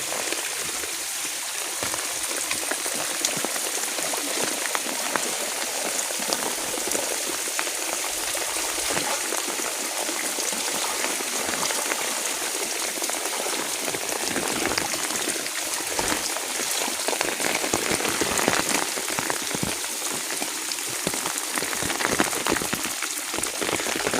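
Heavy rain drums steadily while water pours and splashes off rooftops, a dense continuous patter and spatter with a faint streaming rush underneath, lasting throughout with no voices.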